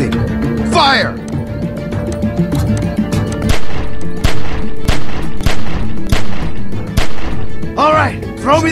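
Rapid gunfire in The Walking Dead: 400 Days video game, a dense barrage of sharp, loud shots and thuds cracking through most of the stretch, with game voices talking over the shooting at start and end.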